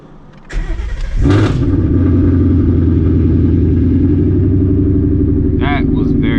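A Ford Mustang GT fitted with a large new hot-air intake cranks briefly, fires up loudly and settles into a deep, rumbling idle close by; a voice speaks briefly near the end.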